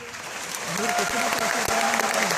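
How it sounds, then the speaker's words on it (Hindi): A motivational seminar audience bursts into loud, sustained applause that swells and holds steady, with dense clapping and a voice faintly audible underneath. "जब ताली बजाते हैं तो जोर से बजना चाहिए"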